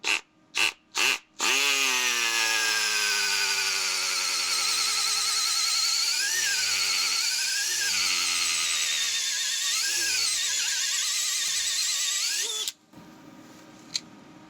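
Milwaukee hole saw cutting out subframe bushings on a Subaru WRX, starting with three short bursts, then a long loud whining cut with pitch dips as the load shifts, stopping abruptly.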